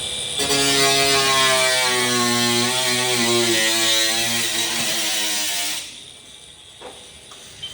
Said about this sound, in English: Every day I get to play with the grinder.